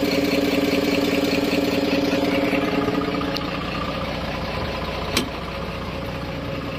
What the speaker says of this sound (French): Donc voilà le moteur.